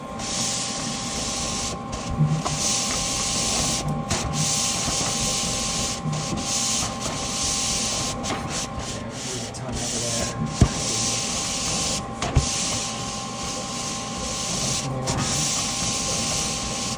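A DTF transfer film printer running, a steady dense mechanical whir and hiss with constant tonal hums, continuous and loud with a few small clicks and knocks.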